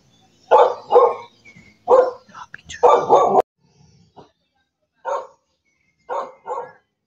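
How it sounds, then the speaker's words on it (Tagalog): Several dogs bark in short bursts, some in quick pairs, with pauses between them, fairly close and loud, in Barangay Trinidad, Surigao City, Philippines. "Daming aso dito"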